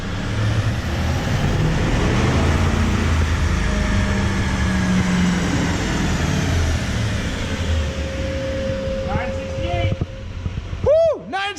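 An L5P Duramax diesel truck runs at full throttle on a dyno, a loud, sustained low roar building through the gears, followed near the end by rising and falling whines as a voice cheers over it.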